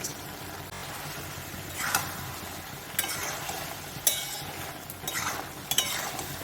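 Potato curry is stirred and fried in a pan after the lid comes off, with soft continuous sizzling and several sharp scraping strokes of a spatula against the pot at irregular intervals.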